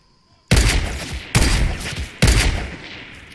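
Three loud, sharp gunshot bursts in the video game Fortnite, evenly spaced about a second apart, each with a booming echoing tail, no talking over them.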